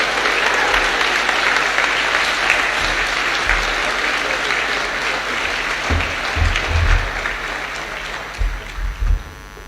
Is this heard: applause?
yes